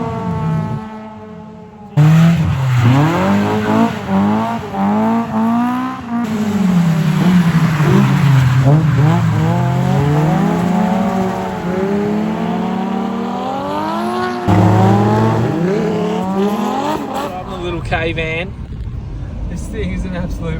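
Toyota AE86 cars drifting, engines revving hard with rising and falling pitch and tyre squeal, loud and close for most of the stretch with a brief drop partway through.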